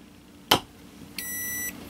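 An LG G4 in a Quick Circle case sounds a wireless charging beep: a sharp click first, then a single clear, steady electronic tone lasting about half a second, close and distinct.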